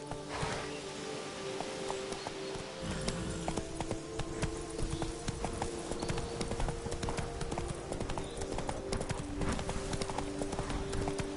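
Roach the horse from The Witcher 3 gallops steadily, hooves clip-clopping in a fast, continuous rhythm over a constant game background hum, close and loud throughout.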